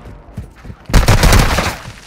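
A quiet lull breaks into a loud, sustained volley of rapid gunfire in a video game, dense crackling shots lasting about a second before tapering off.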